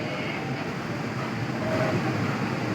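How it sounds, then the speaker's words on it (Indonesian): A ballast wagon train rumbles steadily past at close range entering Wonokromo station, a continuous low roar with rolling wheel noise and no voices. "Dari arah selatan stasiun Wonokromo masuk kereta api KLB Gerbong Balas."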